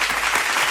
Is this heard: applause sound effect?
yes